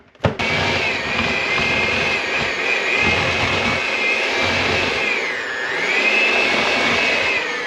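An electric mixer whips mashed potatoes with a loud, steady whirring motor drone that starts abruptly and holds throughout, its pitch dipping briefly partway before returning, with no voices.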